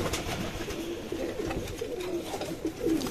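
Pigeons in a loft coo softly in repeated low, rolling calls at moderate distance over quiet background rustling, with no speech.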